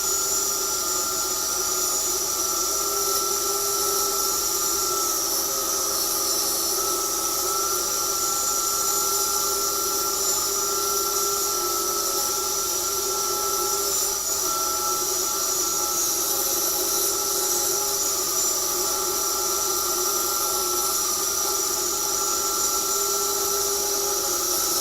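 A power saw cuts wooden planks in half, producing a steady, loud, high-pitched whine with constant tonal bands. It runs without a break for the whole stretch, and no voices are heard.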